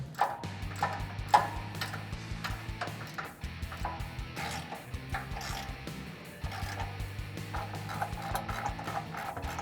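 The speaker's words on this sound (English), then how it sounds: "we are going to tighten that down with a 19mm wrench and 19mm socket" Ratcheting clicks from a 19mm wrench and socket tightening bolts on a DV8 off-road front bumper on a 2016-2018 Chevrolet Silverado, steady mechanical ticking in bursts with clanking and a low hum underneath.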